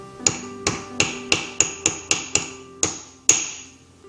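A hammer strikes an expensive diamond resting on what seems to be a steel plate, about ten sharp metallic blows with ringing tails. The blows come at a fairly steady pace with a couple of longer pauses, close and loud, with no talking.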